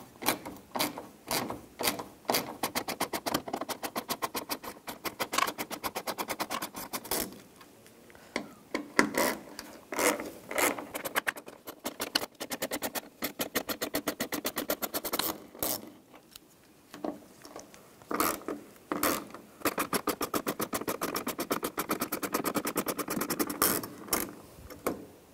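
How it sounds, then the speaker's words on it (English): A ratchet with a T20 socket loosens screws on a 2011-2018 RAM 1500 3.6L during fuel pump module work, giving rapid close clicking bursts with short pauses between them. "Take these three screws out. We're gonna use a T20 socket."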